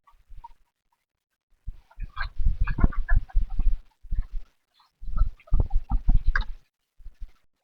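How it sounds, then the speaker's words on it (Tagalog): Chickens clucking near a house where white leghorn hens are kept, in bursts of busy, overlapping clucks separated by short pauses, fairly close and loud. "Nakakatuwa rin pala guys pag may mga alagang mga manok sa bahay."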